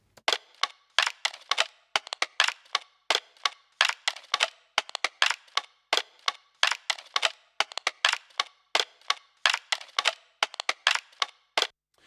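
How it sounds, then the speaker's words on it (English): A busy, uneven Apple Loops percussion loop in Logic Pro X, of sharp clicky hits and crackles, repeats steadily, slightly off-kilter, with no voices. "little percussion loops like this that are a little bit fiddly and a little bit wonky and full of little moments"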